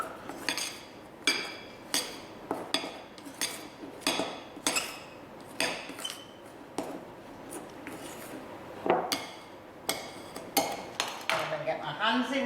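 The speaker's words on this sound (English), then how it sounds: "I'm going to mix this in with my yeast and my sugar, all of it, to make a soft but slightly sticky dough" Utensil clinks and scrapes against a bowl at a steady rhythm as milk, yeast and sugar are mixed into a soft, slightly sticky Chelsea bun dough; sharp, close, repeated taps with a faint voice in the background.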